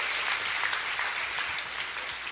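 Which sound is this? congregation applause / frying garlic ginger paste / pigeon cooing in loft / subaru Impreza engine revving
congregation applause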